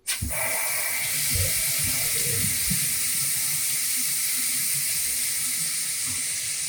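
Water running and draining in a bathroom sink during a half-bath remodel, a steady close rushing hiss starting abruptly with some low gurgling at first, then cutting off sharply at the end.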